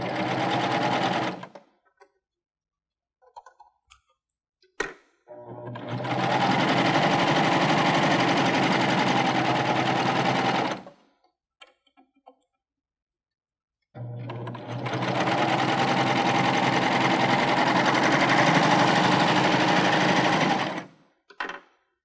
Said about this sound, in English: So that's a triple cover stitch, first on swimwear and now on this really nice brushed polyester.